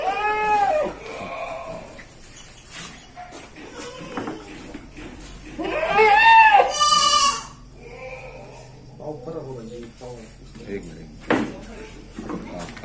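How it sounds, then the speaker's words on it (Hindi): Malvi goats bleat at a goat farm while being weighed, giving a few wavering, fairly near calls, with several people talking over and between them. "ये अपना तीसरा बकरा है"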